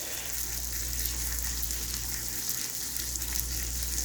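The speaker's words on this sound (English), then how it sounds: "I'm hearing some sizzle come along out of this oven." Surf and turf food sizzles inside an oven, a steady crackling hiss that runs without a break over a low hum, with no voices.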